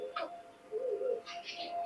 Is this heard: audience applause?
no